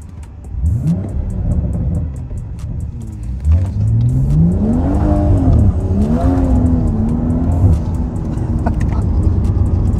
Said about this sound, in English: Why don't you give it a bit of a rev here?